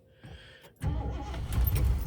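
Cold start of a 1978 Lincoln Continental Town Car with a detuned smog-era engine: a short cranking sound, then the engine catches and settles into a loud, steady, close running rumble.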